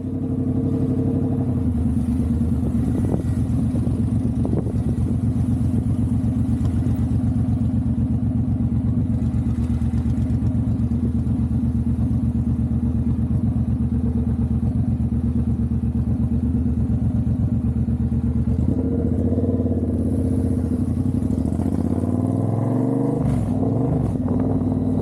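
Remapped motorcycle riding steadily past standstill traffic, its engine note droning loud and close throughout with a brief rise in revs near the end, no voices.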